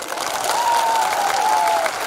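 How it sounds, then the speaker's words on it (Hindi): A large crowd claps at a political rally in Tripura, loud continuous applause with some faint cheering and a sustained tone running through it. "ताली दीजिए इनको।"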